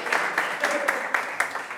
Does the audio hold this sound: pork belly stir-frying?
no